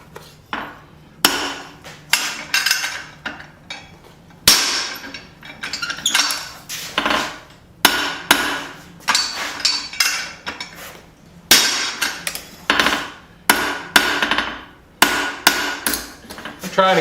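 Hammer blows forge a hot steel bolt into a small knife on an anvil, upsetting the end in repeated bursts of rapid ringing strikes separated by short pauses, loud and close.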